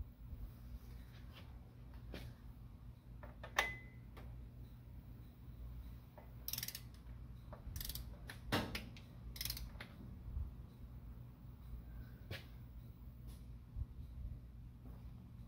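A wrench torques flywheel bolts on the Cummins engine of a 1992 Dodge D250 first-gen truck, producing faint, sparse metallic clicks and ratchet ticks over a low steady hum.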